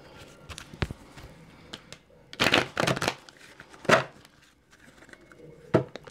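Tarot cards are shuffled and cut: short papery bursts of riffling and slapping come in several separate clusters, close and crisp, with quieter rustles and taps between them.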